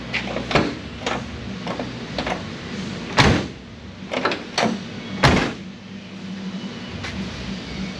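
Several sharp thumps and clunks at irregular intervals, a Pontiac Firebird car door being worked open and shut repeatedly at close range, with a low background hum.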